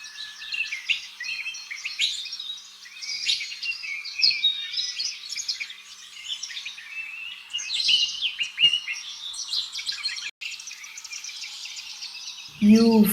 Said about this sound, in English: T for toucan.